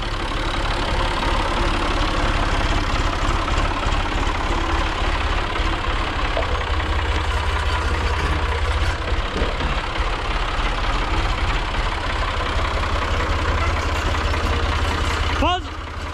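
A Ford tractor engine idles continuously at close range after restarting, a steady rumble with a constant low drone throughout and a brief higher sound near the end.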